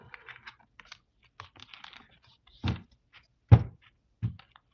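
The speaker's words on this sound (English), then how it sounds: "I'm gonna shuffle my deck." A deck of reading cards is shuffled, with soft riffling flicks followed by a few sharper thumps as the cards are tapped and squared, close and quiet with no talk.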